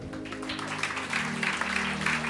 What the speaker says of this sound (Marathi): जरा सिस्टर साठी जोरदार टाळ्या जर